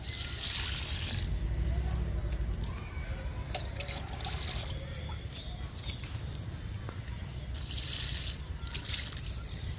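Liquid fertilizer is poured from a container onto a potted moringa plant, giving two brief splashy bursts near the start and end over a faint steady background.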